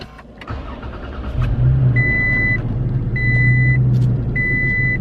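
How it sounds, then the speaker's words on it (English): Cold start of a truck fitted with a TRD exhaust, heard from inside the cab: the engine catches and settles into a steady low rumble while a warning chime beeps in repeated bursts over it. "I'm going to give you guys a cold start inside the cab now, let you hear that"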